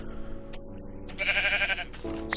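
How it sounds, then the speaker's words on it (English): A sheep in a video game bleats close up, a short nasal wavering cry in the middle of the clip, over low game background tones with a brief click near the end. "Come here, sheep."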